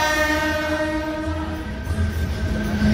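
A train at Mathura railway junction sounds a long, loud, steady horn blast with layered tones, close by and dominating the scene.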